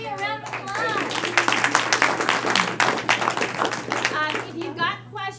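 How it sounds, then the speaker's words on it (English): Attendees at a team meeting clap for Lee, a brief patter of hands in a small room, with voices talking over and around the clapping. "give Lee a round of applause"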